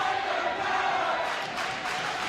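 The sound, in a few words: Ephrata home crowd cheering at volleyball game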